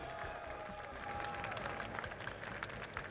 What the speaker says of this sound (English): Round of applause for our 4th place winner